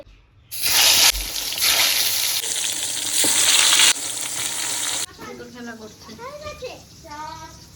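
Jackfruit and brinjal coated in turmeric and salt hit hot oil with a loud, steady frying hiss that runs for several seconds, then drops away as children chatter and speak nearby.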